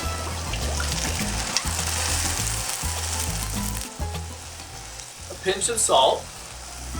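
Oyster mushrooms sizzle and crackle in hot oil in a pan, a steady frying hiss with a brief burst of stirring near the end, while a person talks briefly over it.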